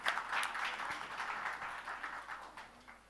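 Applause from an audience welcoming the Mayor of Surat onto the stage at a climate-crisis event, a steady wash of clapping that holds through and slowly fades toward the end.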